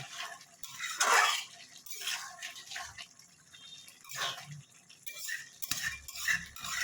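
Water spinach stems and prawns stir-fried in a pan, with a spatula scraping and clinking against the metal in irregular bursts over a soft, steady sizzle.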